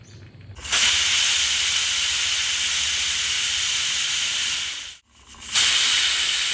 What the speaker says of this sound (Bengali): প্রেসার কুকারে 10টি হুইসেল পড়েছে